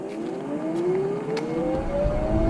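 A MACFOX e-bike pulls away from a stop at full throttle, its electric motor letting out a loud, rising whine over tire and road noise.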